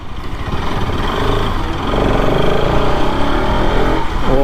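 A Bajaj Pulsar RS 200 motorcycle on its stock exhaust runs loud and close, its engine note holding an even, buzzy drone that swells slightly partway through.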